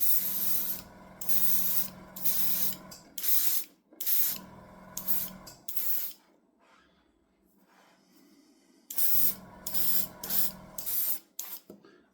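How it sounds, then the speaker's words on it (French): Airbrush spraying a light mist of paint onto a scale model canal lock, coming in repeated bursts of hiss a few seconds each with quiet gaps between, close and fairly loud. "va réduire un petit peu la pression de l'aérographe"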